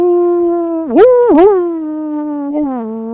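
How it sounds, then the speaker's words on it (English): Wolves howling, a single clear, loud, sustained tonal howl that wavers and dips twice before settling into a long drawn-out note, with no snarling or fighting audible. "you actually hear the howling of wolves off to your left and to your right"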